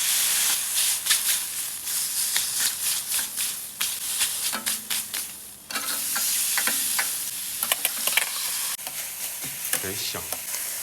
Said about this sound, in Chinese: 油热，放入八爪鱼。